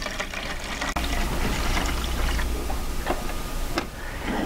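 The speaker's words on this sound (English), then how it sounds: "you just take some distilled water and you pour it up to a sufficient level" Distilled water pours into the reservoir of a K-Cup coffee brewer, a steady close splashing and trickle with a sharp click near the start and no talking.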